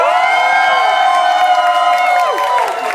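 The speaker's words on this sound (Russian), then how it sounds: "Ваши аплодисменты." Crowd at a break dance competition in a club room cheering and whooping, loud shouts and held cries rising and falling over about three seconds, close and energetic, with little clapping standing out.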